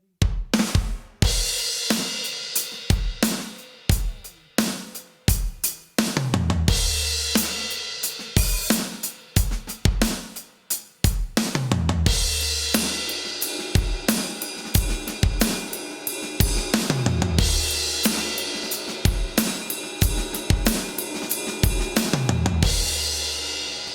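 A drum kit plays a steady rock groove with kick, snare and hi-hat, broken up by quick fills rolling around the toms, loud and close.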